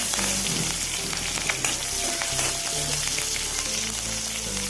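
Crushed garlic and chopped green chillies fry in hot oil for a leafy greens thoran, a constant loud sizzle with stirring scrapes and a low hum throughout.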